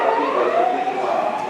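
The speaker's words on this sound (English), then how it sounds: "Oh, there's a police car." A police car siren on a busy Tokyo street near a crossing, a loud wailing tone sweeping up and down, heard close and continuous over the city noise.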